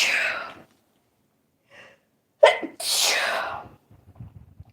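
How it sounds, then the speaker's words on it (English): A single sharp sneeze after a quiet pause, preceded by a short breath and followed by a breathy exhale and soft rustling. "I'm going to sneeze."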